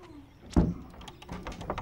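A locked door being tried, a sharp rattle and thump of the handle and frame, followed by softer knocks and clicks.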